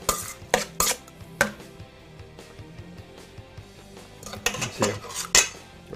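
A metal utensil clinks and scrapes against a bowl while ahi poke is tossed with sambal, tamari and sesame oil, giving irregular sharp taps and soft stirring sounds, fairly close and moderately quiet.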